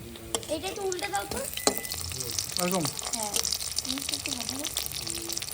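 Snakehead fish fry, sizzling and spattering steadily in a hot pan, with occasional stirring clinks and a person talking over it.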